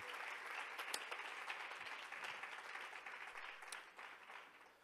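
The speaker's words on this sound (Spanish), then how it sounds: "Le damos un fuerte aplauso al Señor." A church congregation claps steadily, a dense even patter of many hands at moderate volume that continues without a break, easing slightly near the end.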